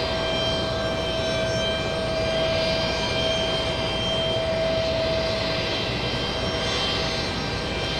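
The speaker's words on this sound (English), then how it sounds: "We have British Airways 777 flying in from Heathrow" A British Airways Boeing 777 jet arriving at JFK from Heathrow, a steady loud engine roar with a sustained whining tone running throughout, close and continuous, with no voices.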